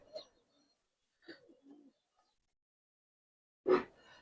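A female Giribaz pigeon, white-beaked, gives a few soft, brief coos with pauses between them, close by in an otherwise quiet space, ending on one slightly louder call.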